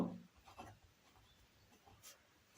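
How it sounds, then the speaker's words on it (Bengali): A pen scratches across a notebook page, faint close-up strokes in short irregular bursts, quiet and dry with no talking. "আমি লিখলাম যে প্রদত্ত"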